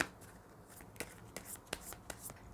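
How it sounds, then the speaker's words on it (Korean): Tarot cards are shuffled by hand in a quiet room, faint soft rustling broken by several sharp flicking snaps at irregular intervals. "3번 카드 섞어서 나머지 4장 한번 뽑아서 읽어보도록 할게요."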